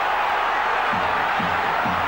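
A rugby league stadium crowd roaring and cheering during a Warrington versus Wigan match, a loud, continuous wash of massed voices with a few rhythmic low chant-like pulses.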